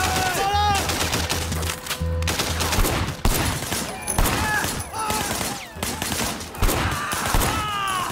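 Gunfire in the open-world game Sleeping Dogs Definitive Edition: repeated sharp volleys and automatic bursts crackle across the whole stretch, loud and close, mixed with other game effects.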